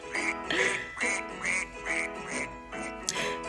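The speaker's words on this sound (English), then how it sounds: "Mother duck said quack, quack, quack, quack" A duck quacks in a steady, rhythmic series of about six loud, nasal calls, evenly spaced and close by, with no talking.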